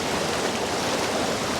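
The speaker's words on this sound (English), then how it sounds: "there's an upper waterfall or a little cascade going around a rock" Small waterfall cascading around a rock, a loud, steady broadband rush of splashing water that stays constant and close throughout with no voices.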